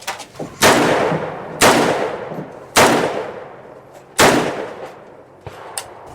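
Four sharp, loud AR-15 pistol gunshots crack out at uneven intervals with no one talking, each a broadband blast with a brief decaying tail and a fainter pop near the end.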